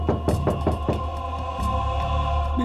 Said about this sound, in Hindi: दरवाजे के अंदर धक धक हो रहा है।